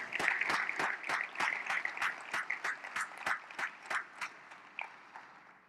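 An audience at a transit conference session gives a round of applause, individual claps distinct and fairly sparse, heard at a moderate distance and tapering off toward the end.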